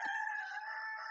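A rooster crows once in a long, sustained, fairly loud call that holds steady, heard alone with no talk over it.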